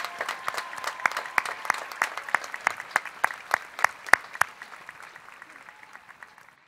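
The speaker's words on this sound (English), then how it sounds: "Let's give all these students one more round of applause." A high school graduation audience applauds the students in a hall, with dense steady clapping and a few sharp louder claps standing out. The applause gradually thins and fades toward the end.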